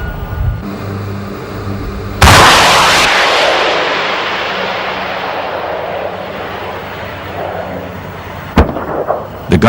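An anti-aircraft gun fires at a towed sleeve target: one loud sharp blast whose roar decays over several seconds, then a few smaller distant cracks near the end.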